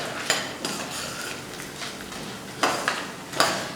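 Toor dal roasts dry in a pan, with a soft hiss broken by a few distinct scraping and clinking strokes of a spoon against the metal.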